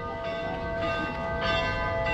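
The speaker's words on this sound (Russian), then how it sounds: "А сейчас здесь звон церковный. Колокольный звон." Church bells ring continuously in Balaklava, Crimea, with sustained, overlapping tones, steady and fairly loud throughout.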